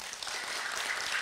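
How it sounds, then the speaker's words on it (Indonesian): A crowd gathered at the Musholla Al-Ikhlas prayer house in Villa Intan claps steadily, the applause moderately loud and even throughout with no voices over it. "Saya boleh minta tepuk tangannya untuk Musola Al-Ikhlasnya."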